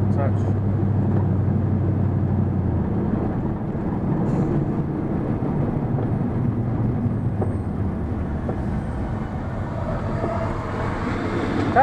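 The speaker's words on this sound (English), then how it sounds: "the sound of the truck and such" Steady low road rumble and drivetrain hum from inside a moving truck, continuous and fairly loud throughout, with a faint tonal whine early on and occasional small knocks.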